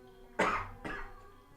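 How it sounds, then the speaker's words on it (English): A man coughs twice in quick succession during a casual podcast conversation, the first cough sharp and loud, the second slightly softer and raspier, close to the microphone with no talking over it. "That's why I'm coughing."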